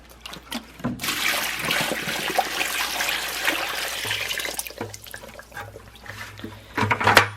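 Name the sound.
water poured into bucket of paper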